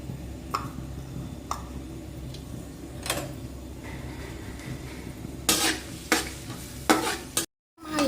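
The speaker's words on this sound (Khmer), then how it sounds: "ចាក់ប្រេងឆាចូលតើមកយើងដាក់ខ្ទឹមសចូលតែម្ដងឆាខ្ទឹមសឲ្យឈ្ងុយបន្តិច" Garlic sizzles in hot oil in a pan, a quiet steady fry broken by sharp scraping strokes of a spatula stirring, growing louder and busier near the end.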